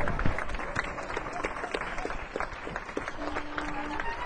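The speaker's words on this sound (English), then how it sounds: "You can clap harder than that." An audience claps at Ronnie Scott's Jazz Club in London before a Eumir Deodato late show, a moderate, somewhat scattered applause with individual claps audible throughout and a faint tone near the end.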